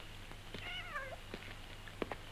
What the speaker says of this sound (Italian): Ma che so tutti sti gatti per casa